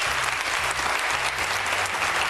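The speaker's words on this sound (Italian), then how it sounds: "Un applauso per Mandelli." Sustained, full studio applause on an Italian television football comedy show, hands clapping densely and evenly for a competing performer, with a soft low tonal drone running underneath.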